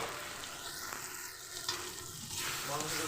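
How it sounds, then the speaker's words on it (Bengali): Spices such as turmeric, salt, cumin and chili powder are stirred in a frying pan for a potato and pointed gourd curry, a steady scraping sizzle running throughout with a louder scrape near the end. "দিয়ে বেশ ভালো করে এটাকে নাড়িয়ে নিতে হবে"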